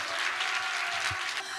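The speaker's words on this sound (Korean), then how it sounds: "다시 한번 박수하겠습니다." Dense audience applause at a pastor's gathering in Korea, steady and continuous through the short stretch with no voices over it.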